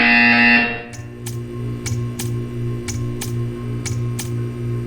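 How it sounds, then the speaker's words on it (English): A loud tone cuts off, then a repeating electronic buzzer in Portal 2 pulses steadily about twice a second, each beep sharp and evenly spaced over a low hum. "You will hear a buzzer."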